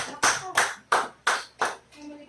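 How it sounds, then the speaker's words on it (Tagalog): An audience at an El Shaddai prayer gathering claps in five sharp, evenly spaced bursts, loud and close, with no talking over it. "Pumalakpak ang mga hindi bingi."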